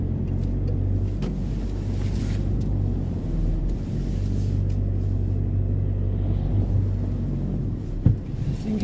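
Road traffic rumbles past continuously on a busy road, low engine drone rising and falling as vehicles go by close to the listener, with a sharp knock near the end.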